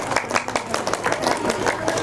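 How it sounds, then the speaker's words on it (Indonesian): Applause at a school reunion in Ciwaringin, a small crowd clapping steadily in a room, dense overlapping hand claps at close to mid distance, fairly loud and continuous with no pause. "Tepuk tangan."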